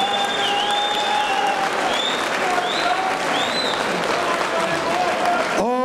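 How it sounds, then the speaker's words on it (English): A crowd applauds loudly and without a break for both fighters after a title bout at a FIGHT UK event, with cheers and whistles through the clapping and a voice cutting in at the very end. "let's have a round of applause for both title fight warriors."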